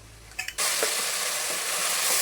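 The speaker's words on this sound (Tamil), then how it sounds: "நம்ம தக்காளி அரைச்சி வச்சதையும் சேர்த்துக்கலாம்." Ground tomato paste poured into a pan of golden fried onions for mushroom biryani sets off a loud, sudden burst of sizzling that holds steady and close, with a couple of light knocks just before it.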